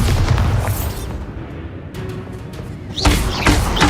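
A Bombarda spell explosion in Hogwarts Legacy, a deep booming blast that decays into rumble, followed by further sharp bursts from the game.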